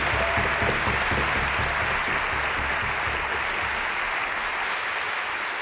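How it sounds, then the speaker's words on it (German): Concert audience applauding a harpist during a stage show with the Philharmonie Salzburg, a dense steady roar of many clapping hands that stays loud throughout and fades very slightly near the end. "Wir haben ihn dann nicht gewonnen, aber Applaus für Evelyn"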